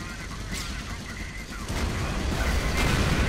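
A steady crackle of massed rifle and machine-gun fire rattles through a Company of Heroes multiplayer battle, growing louder and denser halfway through, with distant booms mixed into the volley.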